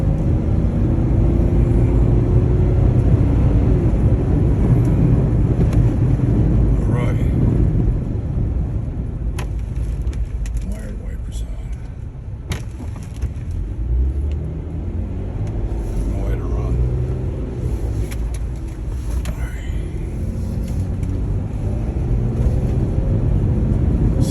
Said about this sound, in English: There it is, death wobble.